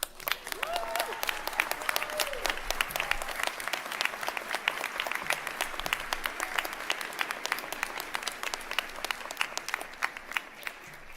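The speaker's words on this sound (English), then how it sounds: "Graduates, will you please rise in honor of your families and loved ones and give them a round of applause." Graduates of a nursing school stand and applaud their families at a ceremony, a broad, sustained wash of clapping from a large crowd in a big hall, continuous and even throughout.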